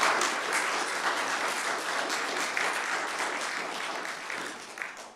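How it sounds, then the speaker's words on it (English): Audience at a Village of Gurnee board meeting claps in a burst of dense, loud applause that holds steady, then thins and fades out toward the end. "I'll give you one exception to clapping"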